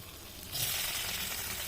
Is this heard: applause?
no